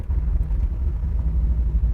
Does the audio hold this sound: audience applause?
no